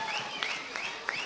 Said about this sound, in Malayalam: നല്ല കയ്യടി കൊടുക്കുക